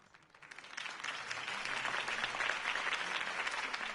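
A large crowd in Telltale's Batman game applauds, the clapping swelling quickly after a quiet start into a steady, dense roar that holds to the end.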